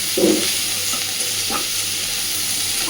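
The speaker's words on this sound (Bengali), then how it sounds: "এইবার আলুর সাথে মিনিট দুয়েক এগুলোকে খুব ভালোভাবে একটু নাড়াচাড়া করে নেব।" Potatoes with garlic, onion and green chilies stir-frying in a pan, an even hissing sizzle with a couple of faint spatula scrapes, no voices.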